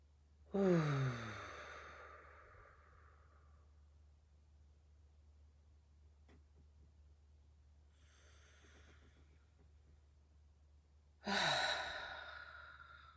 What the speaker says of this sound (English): So let's breathe into that supportive breath.